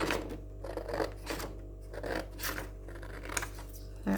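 Scissors snipping through paper while a junk journal card is made, a quiet, close series of irregular crunching cuts over a low steady hum.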